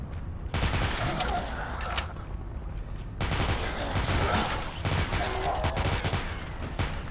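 Bursts of gunfire crackle from a first-person shooter game on a handheld device, dense volleys that stop and start across several seconds at a moderate level.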